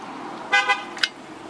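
A nearby car, identified as a Dodge Hellcat, Demon or Charger, goes by with a low engine rumble, while two short tonal bursts and a sharp chirp briefly rise above the background.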